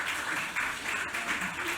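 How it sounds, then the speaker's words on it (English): An audience applauds at a literary event, a steady broadband wash of clapping throughout at moderate loudness. "Please give them a round of applause."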